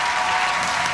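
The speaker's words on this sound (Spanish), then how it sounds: "yo quiero que le demos un fuerte aplauso y felicitar al señor Raymond Arieta." Steady, dense applause fills a television studio as the audience cheers Raymond Arrieta, a continuous wash of many hands clapping close and loud with no talking over it.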